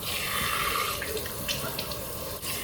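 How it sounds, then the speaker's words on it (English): Warm tap water runs steadily from a faucet into a sink while a green tea detox face mask is rinsed off by hand, a continuous close splashing wash with a few brief drips and hand movements. "I am going to clean it off first with warm water"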